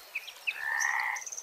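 Frogs by a riverside in riparian woodland, heard as a short burst of high croaks and trills with chirpy notes, fairly faint and outdoors with no voices.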